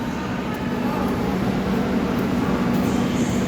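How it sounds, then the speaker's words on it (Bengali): The Shalimar Puri Superfast train stands at Howrah station, giving a steady low rail and platform drone with a constant hum and faint background voices. "এই যে আমাদের হাওড়া, শালিমার পুরী সুপারফাস্ট।"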